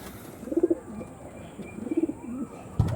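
Pigeons cooing close by: two short bursts of low, throaty coos about a second apart, with a brief knock at the end and no voices.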